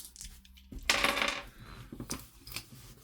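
Six plastic dice from a Warhammer Age of Sigmar Spearhead partwork box tumbling out in a short clattering burst of small hard hits, close and fairly quiet, followed by a few scattered rattles.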